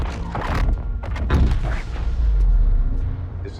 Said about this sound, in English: They both get interrupted by a loud explosion on the shard.